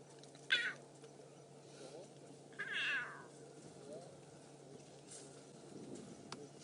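Lioness cubs on a morning safari drive give two short, high meowing calls that sound like a house cat, fairly close but faint, over a steady low rumble of vehicle and outdoor background.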